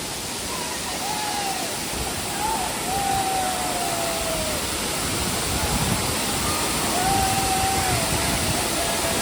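Steady, loud roar of Savatkada Waterfall near Rajapur fills the whole scene, with faint voices in the background now and then.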